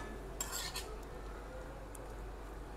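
Bottle gourd greens chorchori gets stirred in a pan, with a few quiet metallic scrapes and clinks of a utensil early on, then a soft low background with no talking.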